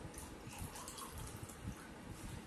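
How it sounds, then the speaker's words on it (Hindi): Water is poured into an empty glass, producing a steady splashing, gurgling flow that is close but quiet, heard alone without talk. "खाली ग्लास में हमने पानी डाला"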